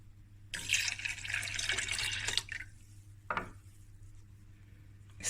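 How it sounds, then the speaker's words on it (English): Full cream milk pours into a container for a Cape Malay milk tart, a near broadband liquid rush lasting about two seconds, then a brief second splash, with no talk. "we're going to fill this container 3 times with milk, full cream milk, and then add it in there"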